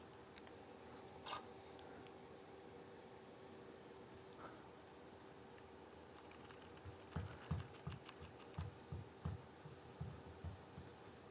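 Computer keyboard keys clatter faintly during a typing race, sparse taps at first, then a quicker run of distinct clicks toward the end over a low steady hum.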